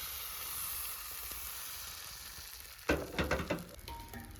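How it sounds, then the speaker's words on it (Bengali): Pitha frying in oil in a pan gives a soft, steady sizzle, then a louder burst of crackling and spattering as pieces are turned or added, with brief clinks of a utensil; no one speaks. "ভেজে নাও সব আস্তে আস্তে করে"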